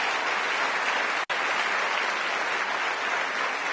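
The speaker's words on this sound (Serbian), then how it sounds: "Ja bih vas zamolila za jedan kratak aplauz za sve ove dame i gospodu" An audience gives a brief round of applause for kindergarten staff at a 50th anniversary ceremony, steady dense clapping from a large crowd with one sudden cut partway through.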